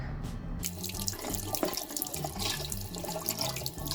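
Water runs steadily from a basement bathroom sink tap into the basin, a continuous close splashing hiss with faint fluctuations and no voices.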